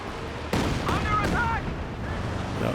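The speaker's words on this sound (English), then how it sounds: "In comes the Katyusha." A Katyusha rocket barrage strikes in Company of Heroes 2 battle, a sudden loud blast followed by rumbling impacts and a second crack, with distant rolling explosions fading under the din.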